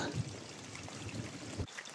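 Water gushes and trickles steadily nearby, a continuous splashing flow with a soft thump toward the end.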